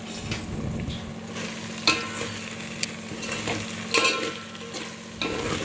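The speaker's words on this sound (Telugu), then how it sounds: "ఇప్పుడు వేగిపోయిందండి ఒకసారి కలుపుకుందాము" Chicken pilaf frying in a pan and being stirred, with a continuous close sizzle punctuated by sharp scrapes and knocks of the spoon at irregular intervals.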